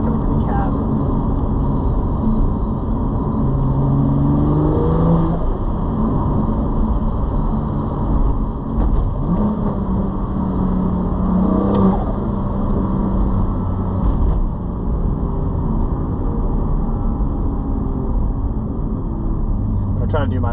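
Cabin view of a BMW M2 fitted with a Valvetronic Designs full exhaust, its engine droning loud and steady throughout with rising and falling revs, while a voice talks over it.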